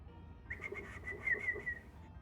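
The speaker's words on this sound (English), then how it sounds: "Okay, a whistle." Whistle signal in Zelda Breath of the Wild, a short, faint, thin trill of a few rapid notes lasting about a second against quiet background.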